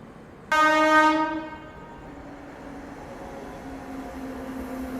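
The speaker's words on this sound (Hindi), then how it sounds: "सामने से आ रही है विशाखापट्टनम नई दिल्ली एपी सुपरफास्ट।" A Visakhapatnam–New Delhi AP Superfast Express sounds one loud, sustained horn blast as it approaches, then the steady rumble of the train running past carries on and slowly builds.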